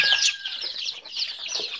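Chickens on an organic farm with fermented-bedding coops cluck and chirp continuously, several birds overlapping in a busy, fairly close chatter.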